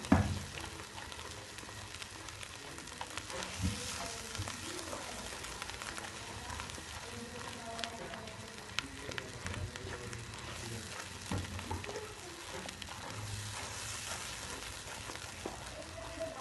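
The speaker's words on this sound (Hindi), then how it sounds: "ये पेस्ट जो आलू और चने का बनाया मैंने अभी तो हम अच्छी तरह मिक्स करेंगे।" Potato and chickpea paste being stirred and cooked in a pan gives a steady low sizzle with soft scraping stir sounds throughout, fairly quiet, with faint talk in the background.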